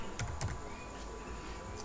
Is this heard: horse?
no